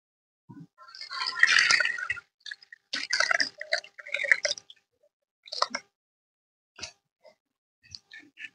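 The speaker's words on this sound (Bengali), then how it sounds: "ছানা ছাকার জন্য আমি এখানে একটা পাতলা সুতির কাপড় নিয়েছি পরিষ্কার। এবার ছানাটা ছেঁকে নেব।" Fresh chhana curd is strained through a thin, clean cotton cloth for rasgulla. Liquid first pours and splashes, then breaks into squishy bursts and slows to scattered drips before going quiet.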